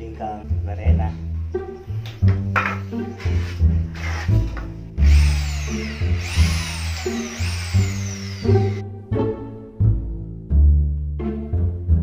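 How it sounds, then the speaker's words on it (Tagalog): Power drill boring holes into used palochina wood planks for a wall shelf, with repeated short whining bursts and grinding pulses, plus a scraping sweep midway, heard up close while someone talks over it. "malaking tulong talaga ang barena sa pagbubuta"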